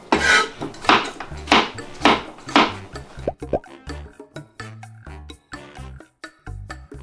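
A knife chops carrot firmly on a cutting board in quick, uneven strokes, the later cuts lighter and more scattered, close up with no talking.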